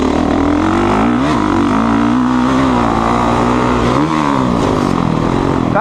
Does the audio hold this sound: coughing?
no